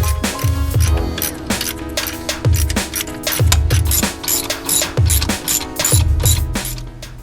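A ratchet tightens the head bolts on a Procharger D1SC supercharger being fitted to a RAM 1500, giving rapid metallic clicking with regular heavier clunks and clinks of tools, loud and close throughout.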